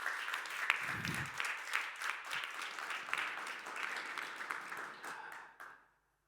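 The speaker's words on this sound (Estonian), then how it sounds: "Suur aplaus nominentidele." Audience at the Lõimumispreemiad 2021 awards ceremony applauds the nominees with sustained, even clapping from many hands, which fades out quickly near the end, followed by silence.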